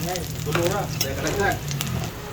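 Ginger sizzling in hot cooking oil in a home kitchen pan, a steady crackling fry running through the short moment, close and fairly loud with faint voice-like tones on top.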